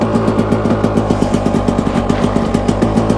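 A KTM motorcycle engine catches on a kick and settles into a loud, steady, rapidly pulsing idle with mechanical clatter, close by and with no talk over it.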